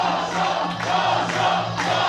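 A roaring crowd at a Lethwei bout swells with shouts and cheers, loud and continuous through a short burst.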